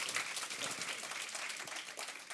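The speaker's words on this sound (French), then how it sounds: "Vous pouvez les applaudir" An audience at a real-estate round table claps in a dense, even burst of applause, moderately distant and steady throughout.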